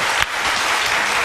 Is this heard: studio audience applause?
yes